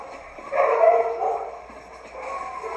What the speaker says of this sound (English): Everywhere you go in the city, you hear this. You just hear dogs barking.